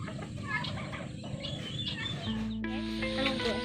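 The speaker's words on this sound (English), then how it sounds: "Actually a farm for turkey and chickens." Turkeys gobble on a turkey and chicken farm, a rattling outdoor chorus at moderate distance, with a steady low hum and tonal drone joining partway through.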